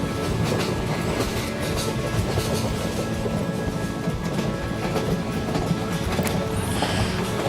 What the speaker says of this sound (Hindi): अब ट्रेन अगले स्टेशन पे पहुंची।